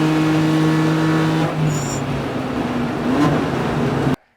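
Real IMSA race car engine droning loud and steady, a strong harmonic tone with a pitch shift midway and a brief rising rev near the end before cutting off abruptly.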